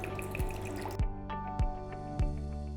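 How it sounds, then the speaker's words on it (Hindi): Milk poured into a pan for homemade khoya, quietly tapering off into a few distinct, evenly spaced drips close by, with no talk. "पैन में सबसे पहले हम डालेंगे दूध,"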